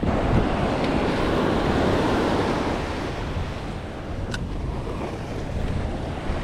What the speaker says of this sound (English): so I'm kind of running from these waves right now